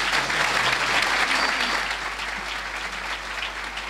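Applause from an audience at a university engineering faculty's 60th-anniversary ceremony, a steady dense wash of many hands clapping throughout, easing slightly toward the end.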